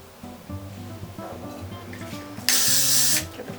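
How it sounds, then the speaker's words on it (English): A single short spritz of hair spray while styling vintage fluff curls, a close broadband hiss lasting under a second over soft background music. "Little spritz."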